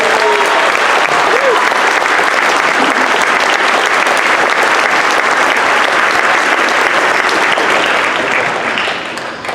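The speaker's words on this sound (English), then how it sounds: "Can we get a round of applause for them?" A concert audience at a school band spectacular claps loudly and continuously, a dense wash of applause that holds steady before fading out at the end.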